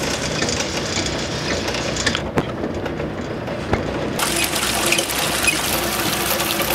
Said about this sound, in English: It even drains the way it used to.